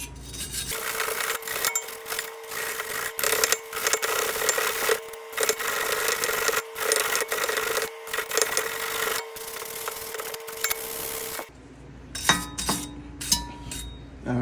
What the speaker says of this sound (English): Then you come in with a brush. Clean all the areas up.